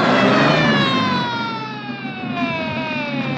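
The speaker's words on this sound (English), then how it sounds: "I see the ambulance is coming." An ambulance siren wails steadily in a long, loud sustained tone that slowly falls in pitch, heard alone over a faint low traffic rumble.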